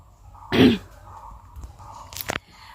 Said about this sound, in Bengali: কাশি কালকে রাত থেকে প্রচণ্ড কাশি রাতে ওষুধ দেওয়া হয়েছে কিন্তু তবুও কাশি কমতেছে না